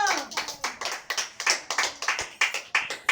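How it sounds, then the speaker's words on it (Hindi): People clap for a quiz contestant at a celebration, sounding like a few hands nearby. The claps come in a quick, steady rhythm of sharp slaps, about four per second. "पुरजोर तालियों में मैं दावत देती हूँ धनिया को।"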